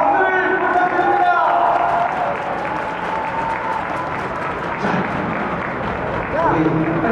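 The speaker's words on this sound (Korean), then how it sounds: "여러분 박수를 부탁드립니다" Audience applause and cheering at a women's volleyball match during a post-game interview with a player, a steady dense roar of clapping filling the whole stretch, with a voice over it near the end.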